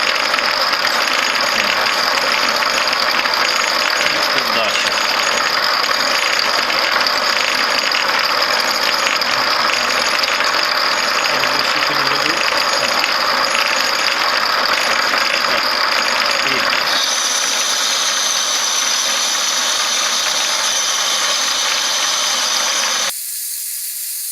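A 16U04P lathe takes a cut across its faceplate, giving a continuous loud mechanical whir with a high whine and a steady hum close by, then an abrupt change near the end as the machine shifts tone and stops.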